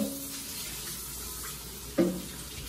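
Tap water runs faintly into a kitchen sink while rice is washed, a soft continuous hiss with one brief louder splash near the end.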